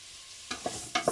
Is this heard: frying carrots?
yes